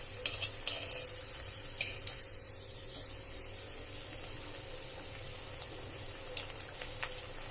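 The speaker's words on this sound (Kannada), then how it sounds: "ಎಣ್ಣೆ ಚಲೋ ಕಾದ್ರೆ ಹಪ್ಪಳ ಸಂಡಿಗೆನದ ಅರಳ್ತಾವದ್ರೊಳಗೆ" Dried sandige snacks fry in hot oil with a soft, steady sizzle and scattered small pops and crackles, faint and close, with no talking.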